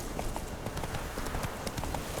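Roach the horse gallops in The Witcher 3 video game, with a fast, steady clip-clop of hooves running continuously over a full, constant bed of game ambience.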